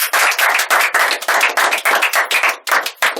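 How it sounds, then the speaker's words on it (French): An audience applauds at a student radio broadcast, a dense run of hand claps in rapid bursts with brief gaps, loud and close, no talking over it. "On peut les Bravo."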